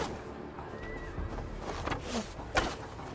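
A horse in the video game Assassin's Creed Valhalla, during the Siege of Paris, gives a whinnying neigh over steady game ambience, with a few thuds and a sharper hit near the end.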